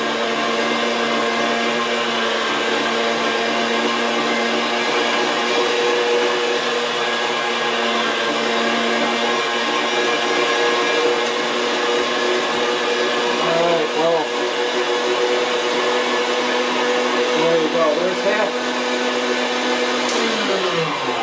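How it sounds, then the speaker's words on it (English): An electric meat grinder runs steadily, grinding venison and pork for Italian sausage, its motor a loud continuous whine with small shifts in pitch under the strain of the meat. "There's half of the meat ground."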